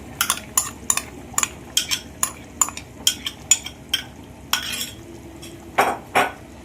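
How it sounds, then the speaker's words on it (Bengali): A utensil scrapes and clacks against a pan while chicken is stirred with a spice paste, producing repeated close metallic taps in a steady rhythm, with a couple of longer scraping strokes and a faint sizzle underneath. "এই পেস্টটা দিয়ে আমি চিকেনের সাথে খুব ভালো করে চিকেনটা কষিয়ে নেব"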